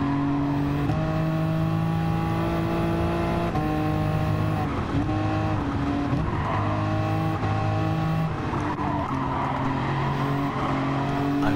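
Race car engines drone loudly and continuously in the Gran Turismo 7 video game, their tones shifting through gear changes and revs, with tire noise and other cars close by.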